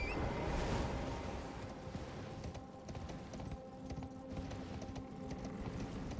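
Horse hooves clip-clop steadily while riding through the open world of Elden Ring, a continuous galloping patter over a dense game soundscape with a faint neigh, no talk.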